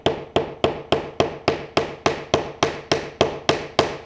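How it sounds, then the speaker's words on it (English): A hammer pounds a nail into wood with a steady series of about fourteen sharp, evenly spaced knocks, close and clear, with nothing else heard. "I can pound in a nail."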